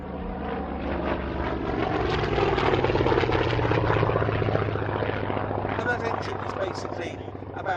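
An aircraft with a 700-horsepower Shvetsov ASH-21 radial engine drones past at an air race, a steady pulsing propeller roar that swells and then eases as it moves away, heard alone without talk.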